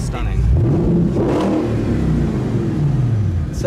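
Spyker C8 supercar engine revs loudly up and down nearby, a deep rumbling roar rising in pitch and settling back, sustained throughout.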